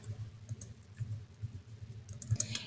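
A computer keyboard is typed on in quick, irregular bursts of soft clicks and taps, close and fairly quiet, with a few brighter key strikes near the end and no voices.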